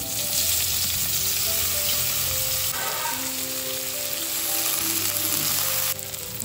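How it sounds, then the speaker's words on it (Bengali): Panch phoron and chopped onion frying in oil for a rui fish jhol with pumpkin and drumsticks, a steady loud sizzle throughout with a few stirring scrapes and a slight drop near the end. "পাঁচফোড়ন সম্বাস দিয়ে দিচ্ছি, কুচনো পেঁয়াজ দিয়ে দিচ্ছি"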